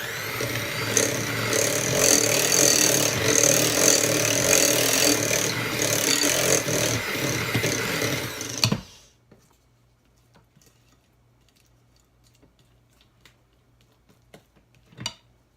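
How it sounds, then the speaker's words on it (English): An electric mixer churns cheesecake batter with lemon juice and vanilla on low speed, a steady whirring drone with the beaters rattling against the bowl for about nine seconds, then it switches off, leaving near silence and a faint clink near the end. "add your lemon juice that you just squeezed and mix it again on low speed"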